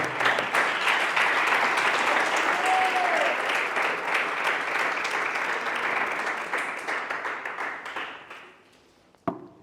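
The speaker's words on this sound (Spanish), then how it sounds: "¿Podemos darle un aplauso?" A church congregation applauding after a sermon: sustained, full-room clapping that holds steady for several seconds, then thins out and fades, ending with a single sharp knock.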